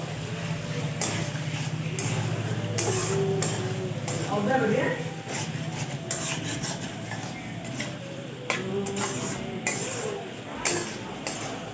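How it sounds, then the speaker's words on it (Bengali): Fried chicken is stirred into spiced masala in a pan, with a spoon scraping and clinking against the metal in irregular strokes while someone talks over it. "এখন আমি দিয়ে দেবো ভেজে রাখা চিকেনটা এটা দিয়ে খুব সুন্দরভাবে কষিয়ে নেব"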